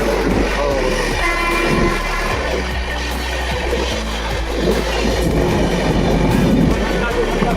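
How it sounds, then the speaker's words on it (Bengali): An express train passes Abada station, heard from a nearby train as a loud, continuous rumble with rhythmic wheel clatter throughout. "থেকে আরেকটি ট্রেন আসছে,"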